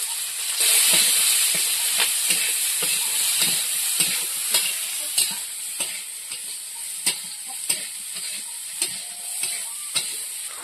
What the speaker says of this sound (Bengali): ভালো করে ভেজে নেবো। এতে অল্প করে হলুদ গুঁড়ো দিয়ে দেবো, লঙ্কা গুঁড়ো,